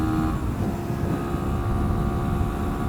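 A 2022 Sinnis SM-XE motorcycle engine pulls in fifth gear at around 50 mph, giving a steady droning hum with tonal whine under constant wind rush, close and continuous.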